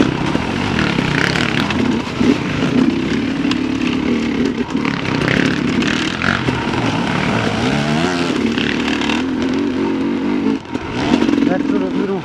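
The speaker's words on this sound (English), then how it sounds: "That sort of little motor rattle, I reckon, is when I'm lugging it" A Shreco 300 SE dirt bike motor rattles as it lugs at low revs, a close, loud, uneven engine drone with a rough texture that runs the whole time, while a rider talks over it.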